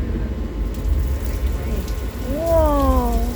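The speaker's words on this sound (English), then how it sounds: "all those sprinklers, they shoot water up into the air, and we let it fall naturally to the ground to simulate rain" Sprinklers spraying water into the air to fall as simulated rain, a loud, dense, steady hiss close by, with a voice speaking over it near the end.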